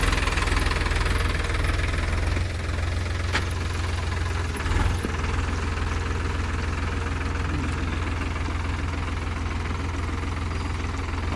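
A Sonalika DI 35 Sikander tractor runs in a wet, waterlogged potato field, its engine a steady, loud, close knocking drone that holds through the whole stretch with only slight variations and no talking.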